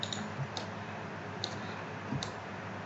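Mouse clicks at a computer while working in Revit 2020, a handful of crisp, sharp clicks spaced irregularly over a steady faint hum, close and fairly quiet, with no talk.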